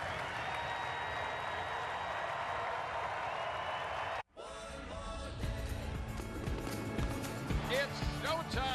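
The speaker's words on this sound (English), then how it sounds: "This home opening crowd about to salute him." Home opening day crowd at a baseball game applauds Angels pitcher Reid Detmers, a steady wash of clapping and cheering that cuts off and gives way to busier crowd noise and talk.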